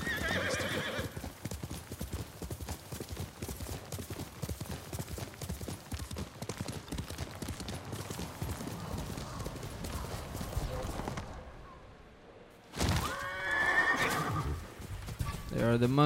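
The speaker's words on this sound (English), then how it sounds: "This horse never dies." In the Ghost of Tsushima video game, horse hooves clip-clop at a steady gallop, then a short silence gives way to a loud neigh, with a voice speaking over parts of it.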